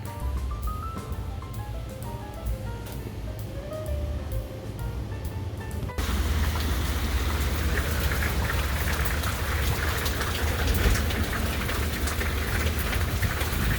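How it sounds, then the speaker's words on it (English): Rain falling steadily, a dense patter that is softer at first with tonal sounds over it, then turns abruptly louder and fuller after about six seconds and continues evenly. "It's raining now."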